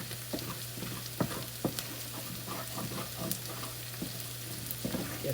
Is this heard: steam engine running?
no